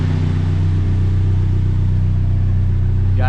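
A Mazda B2600i pickup engine idles close by with a smooth, even low rumble and no revving, right after a new valve cover gasket, distributor cap and rotor were fitted.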